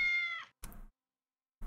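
A cat meows once in the video game Tales of the Neon Sea, a clear, close, rising-falling tone lasting about half a second, followed by a brief soft knock and then silence.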